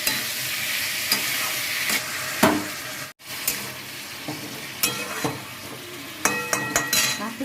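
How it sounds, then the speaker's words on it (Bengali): Boiled jackfruit and potato pieces stir-fried in spiced oil, a steady sizzle under repeated scrapes and clinks of a spatula against the pan, with one brief drop-out midway. "সবগুলোকে নিয়ে আমি এবার কষাবো।"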